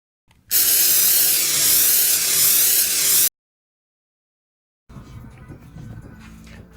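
A can of oven cleaner sprays onto an engine cylinder head in one loud, close hiss lasting about three seconds. Silence follows, then faint handling noises.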